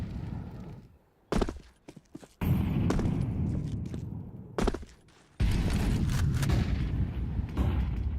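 Rifle fire crackles in a Counter-Strike match at a grand final, with loud rapid bursts and single shots coming in clusters and separated by brief quieter gaps of ambient game noise.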